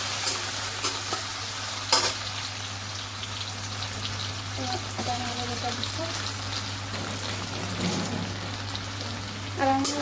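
Onion fries in hot oil for a vegetable curry, a steady close sizzle over a low hum, with occasional stirring taps.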